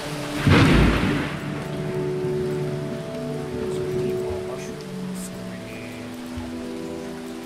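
Steady rain hisses throughout in a video game, with a low rumble of thunder early on and faint tonal drones beneath.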